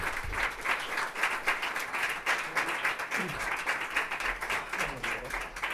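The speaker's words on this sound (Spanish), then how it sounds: "Un fuerte aplauso para José Antonio Santano" An audience at a poetry book presentation in València gives a poet a warm round of applause, sustained clapping from a modest crowd, with a voice or two faintly underneath.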